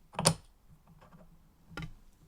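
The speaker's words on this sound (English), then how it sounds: "And then hearing the sound of that going together, the lid onto the teapot." A clay lid is set onto a clay teapot with a sharp, close ceramic clink, followed by a softer second knock a moment later in a quiet room.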